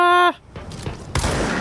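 A short tonal chime gives way to crackling game noise, then a sudden loud explosive burst from an enemy blowing up in a video game near the end.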